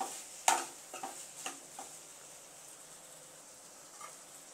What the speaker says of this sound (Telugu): ఇలా తిప్పుకుంటూ ఉంటే మనకి ముక్క అనేది మాడిపోకుండా పొటాటో చక్కగా ఫ్రై అవుద్ది.